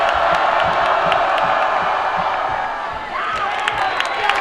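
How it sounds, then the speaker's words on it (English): A high school football crowd in the stands cheers and whoops during a tense down, a loud, continuous roar of voices with shouts rising and falling, with announcer talk mixed in. "the crowd makes some noise."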